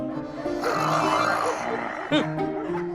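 A woman's rough, rasping snores with a low rumble, loud and close, repeating in an uneven rhythm against a busy background.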